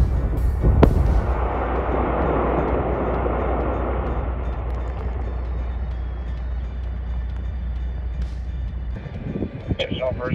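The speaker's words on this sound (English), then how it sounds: "the shot in the North Quarry has been fired" A rock blast in a quarry rumbles as a loud low boom that rolls on for several seconds, heard from a distance with wind and faint background noise.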